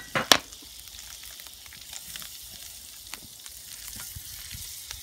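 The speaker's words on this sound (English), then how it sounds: "let's put a couple more tablespoons of butter in here. Get that going." Butter sizzles in a pan over a campfire while chicken piccata cooks, a soft steady crackle after a sharp clatter at the start, faint and continuous with light intermittent pops.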